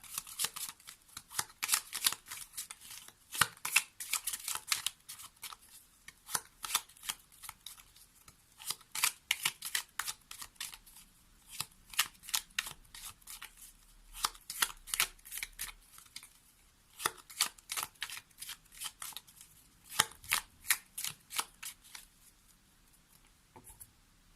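Tarot cards being shuffled by hand: crisp, rapid riffling in repeated bursts with brief pauses, close and fairly quiet, with no talking.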